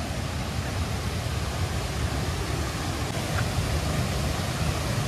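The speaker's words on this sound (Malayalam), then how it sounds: "ഓ എന്നാ വെള്ളച്ചാട്ടം ഒന്നിക്ക" Thommankuthu waterfall in the forest roars as a steady, broad rushing wash of falling water, constant in level with no breaks.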